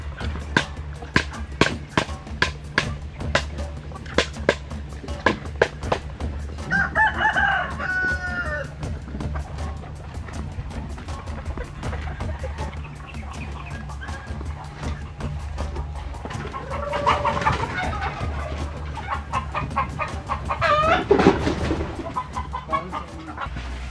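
Rooster crowing and hens clucking among a flock of about 90 laying hens at a chicken house with nest boxes, with busy repeated clucks and a couple of crows standing out, plus occasional brief speech.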